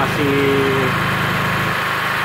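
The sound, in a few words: generator (genset) idling while MIG welder is on without load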